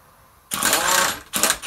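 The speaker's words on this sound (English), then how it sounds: "We're going to use an impact gunner for this." An impact gun rattles while compressing a vehicle's strut coil spring, a loud buzzing burst of nearly a second followed by a shorter second burst after a brief pause.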